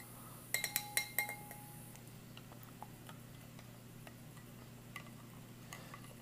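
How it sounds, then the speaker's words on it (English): A spoon stirring an apricot drink in a cup from a Russian military prison guard ration, several bright clinks in quick succession, then sparse soft ticks over a low steady hum. "I'll go ahead and stir up her drink again"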